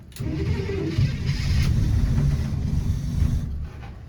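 A Bombardier engine with engine trouble and low fuel cranks and catches, then runs with a steady low rumble for a few seconds before cutting off, loud and close with no talking.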